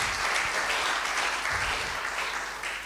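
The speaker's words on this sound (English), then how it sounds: "Richard Jernigan, with a little applause." An audience at the closing ceremony of the 2018 Urantia International Conference applauds, a continuous, moderately distant wash of clapping in a hall that holds steady and fades slightly toward the end.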